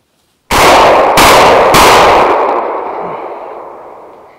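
Shotgun blasts while hunting grouse-type game birds in autumn forest: three loud, sharp reports in quick succession, each ringing out with a long echoing decay across open terrain.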